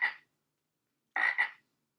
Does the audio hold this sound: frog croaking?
yes